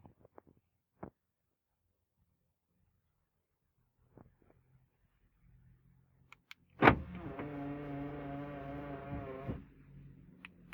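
After a few faint clicks in near silence, a smart car's door locks operated by key fob give a sharp mechanical clunk, followed by a few seconds of electric motor whirring, then quiet.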